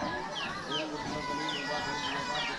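Several domestic chickens cluck and chirp outdoors in a rural yard, short rising calls recurring at a moderate distance over a constant background hiss.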